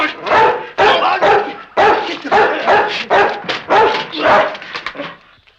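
Timmy the dog barks and growls fiercely during a fight, a close, loud run of rapid, rough barks with short yips between them before trailing off.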